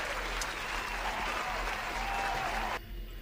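Canned crowd applause plays on a podcast, a steady, dense clapping wash that cuts off abruptly near the end, leaving quiet background.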